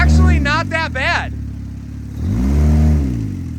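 A homemade turbocharged Subaru engine revs up and falls back during an engine mount test, a loud close burst followed by a second rising rev, with no talk.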